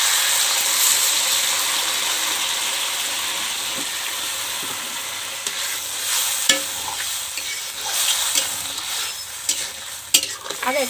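Hot water from a kettle goes into a simple chicken curry in the pan, causing a steady loud sizzle and bubbling hiss that softens a little over time, broken by occasional utensil clicks, with no talk.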